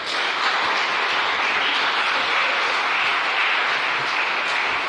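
A church congregation applauds to acclaim the Lord, a dense, steady wash of clapping from many hands that stays loud and even from start to finish.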